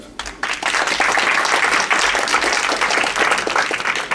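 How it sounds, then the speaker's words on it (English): Audience applause during an organizing course session, a dense continuous patter of clapping that starts within the first half second and holds at a steady, fairly loud level to the end. "Let's have an applause to welcome them."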